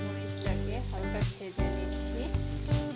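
Onions fry lightly in a pan for a liver bhuna, a soft continuous sizzle under a steady tonal hum with a few louder swells.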